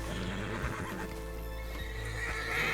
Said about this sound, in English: it's getting trampled by the horse.